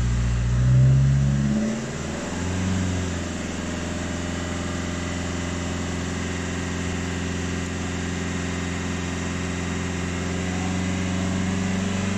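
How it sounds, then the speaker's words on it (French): A Fiat Grande Punto engine rises briefly, then holds a steady, even drone at about 3000 rpm with a constant low hum and no voices. "j'ai accéléré pendant 30 secondes. C'est parti, à 3000 tours."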